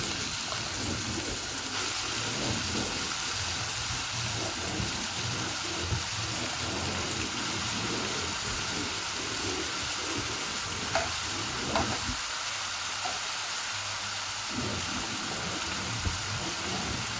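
Potatoes fry steadily in a pan for a Bangladeshi egg-and-potato bhuna, a continuous close sizzle with occasional stirring scrapes and no voices.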